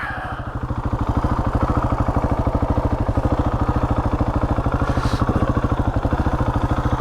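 A motorcycle engine idles close by with a steady, rapid, throbbing pulse while the bike is turned around, holding an even beat throughout with no talking.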